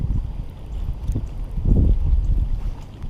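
Heavy wind buffets a fishing boat, a steady low rumble with gusting swells and hull knocks on the water, loud and close throughout.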